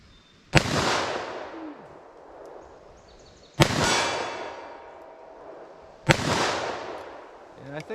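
Three loud, sharp shots from a snub-nose .357 Magnum revolver, spaced about three seconds apart, each with a long ringing decay outdoors.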